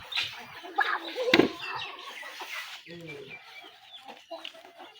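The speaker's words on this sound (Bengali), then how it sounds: "যাও না মুরগি ধরো, মুরগি ধরো, মুরগি কামড় দেবে না।" Chickens clucking in a yard, several short close clucks and squawks scattered throughout, with people talking over them.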